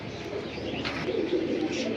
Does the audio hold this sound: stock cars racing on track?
no